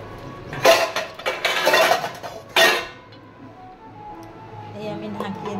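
A metal lid goes onto a pot of chicken cooking on the stove, with a few sharp clanks and rattles in the first three seconds, including one distinct clink, followed by quiet.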